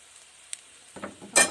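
Masala vegetables are stirred into veg chow mein frying in a pan at home, with a quiet sizzle, a brief utensil tap, then a louder scraping stir and a burst of hissing near the end.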